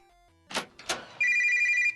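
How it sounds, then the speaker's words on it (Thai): A telephone rings with a steady electronic ringtone, starting loud and close after two short knocking thuds and then holding on without a break. "เสียงโทรศัพท์ เพียงโทรศัพท์ รับสาย"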